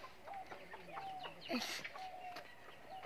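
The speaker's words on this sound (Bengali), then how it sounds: "এটা হচ্ছে আমাদের দেশি মুরগির খামার।" Local desi chickens clucking inside a village poultry farm in Dhamrai, Dhaka, several short repeated clucks and calls at moderate distance, faint overall with light background noise.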